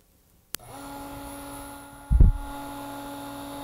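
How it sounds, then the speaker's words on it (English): A vacuum pump switches on with a sharp click and settles into a steady electric hum while pumping a sample system down, with a brief low thumping burst partway through; no one speaks. "This one we'll leave open, and we'll turn on the vacuum pump,"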